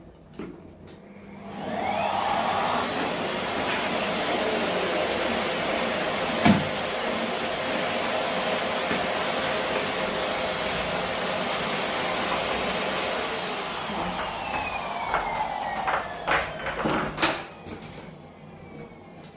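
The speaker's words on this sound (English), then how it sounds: "I'll just give that a little extra vacuum." A vacuum cleaner drones loudly and steadily for most of the stretch while cleaning an Airbnb, starting up after a short bump, with a few knocks and a change in pitch as it winds down near the end.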